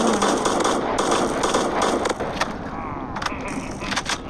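Rapid bursts of gunfire in the video game PUBG, dense crackling shots that are loud at first and then a little quieter with scattered single pops.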